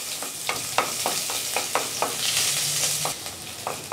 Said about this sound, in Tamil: 7-8 சின்ன வெங்காயத்தை நறுக்கி வச்சுருக்கேன், அதையும் போட்டுட்டு நல்லா வதக்கி விட்டுக்கலாம்